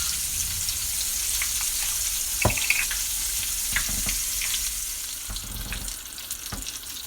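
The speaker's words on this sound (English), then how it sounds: "when you hear the sizzle stop, you remove it from the grease" Steady crackling hiss of food frying in hot grease, continuous and fairly close, with a few sharper pops and clinks breaking through.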